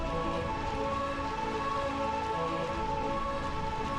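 Steady rain falls in the Realm of Eternal Rain in the video game Final Fantasy IX, a continuous even hiss with no talking.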